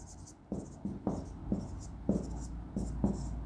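Marker or chalk scratches and taps on a board during a class 11 math lesson on sets, in short rhythmic strokes about half a second apart, close and moderately quiet, with a faint steady hiss behind.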